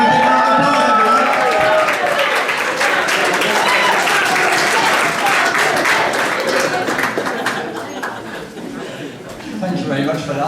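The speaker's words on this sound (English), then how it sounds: "Give him a big round of applause, everyone." Wedding guests applaud the father of the bride in a hall, a full, sustained round of clapping from a crowd with some chuckles and cheers mixed in, easing slightly near the end.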